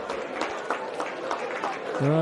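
Crowd clapping at a rugby match between the Fijian U20 side and Australian Country, a steady patter of applause from the stands with a commentator's voice running over it.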